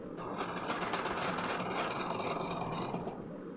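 A sewing machine runs continuously and close by, stitching the waistband of a pajama, with a fast, even mechanical whir and needle patter that holds at a steady level with no pauses.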